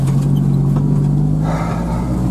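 A UAZ engine revs hard and steadily as the vehicle sinks into deep snow while following a tracked all-terrain vehicle's trail, a loud continuous drone heard close up without talk.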